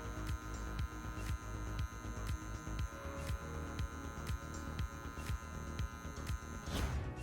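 Electric hair clipper fitted with a half guard, buzzing steadily at close range with a constant motor hum and rhythmic pulsing as it buffs a line during a haircut, ending in a brief scraping burst.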